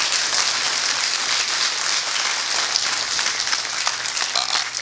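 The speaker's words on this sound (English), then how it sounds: "That deserves a round of applause" A round of applause ripples through a town hall meeting audience in Rocky Mountain House, moderately loud and continuous over a faint background hum.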